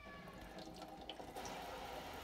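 Tap water gently rinsing vinegar-soaked eggs, a soft continuous faucet flow that is faint and steady throughout.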